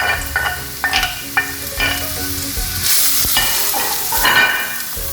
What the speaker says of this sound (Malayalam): എണ്ണ ചൂടായി വരുമ്പോൾ അതിലേക്ക് സവാള അരിഞ്ഞ് വെച്ചിരിക്കുന്ന പച്ചമുളക്, ഇഞ്ചി,